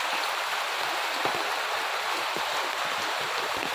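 A steady downpour of heavy rain, a continuous close hiss with occasional sharper drops striking nearby surfaces.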